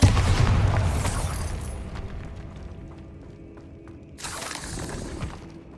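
Bombarda blasting spell in Hogwarts Legacy: a loud burst opens the clip with a shattering crash and rumbling debris that fade away, then a second, smaller blast sounds near the end.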